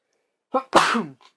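A single sharp sneeze, close and loud, with a short intake of breath before it and a faint vocal trailing off afterward.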